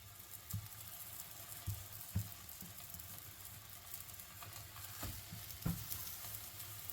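Wild garlic potato cakes frying in a little oil in a pan, a quiet steady sizzle punctuated by several soft pops and spits, with no talking.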